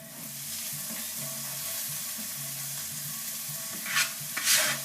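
Vegetables sizzle in a pot of caramelized onions, a soft steady frying hiss with a low stirring scrape, then two brief louder splashes of sizzle near the end.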